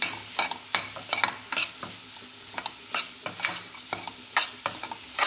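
Spices sizzling in a pan over a high flame while being stirred, with a rhythmic run of loud scraping and clattering spoon strokes over a softer frying hiss, close-up with no talking.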